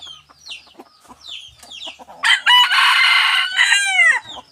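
A captured red junglefowl rooster crows loudly and close from inside a cage, one long rising and falling call after a few softer clucks and chirps.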